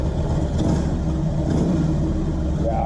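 The engine of a 2004 Harley-Davidson motorcycle idles with a steady, even low rumble after a front engine mount replacement, heard close up with no talking.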